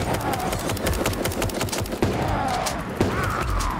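Rapid automatic M16 fire in the Super Animal Royale video game, dense overlapping bursts of gunshots continuing loudly throughout with game effects underneath.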